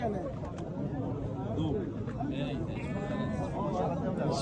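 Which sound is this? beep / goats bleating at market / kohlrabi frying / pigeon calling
goats bleating at market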